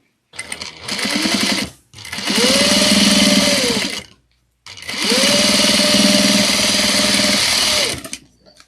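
A sewing machine stitches a pouch seam in three bursts, whirring loud and close with a steady mechanical buzz, each run separated by brief pauses.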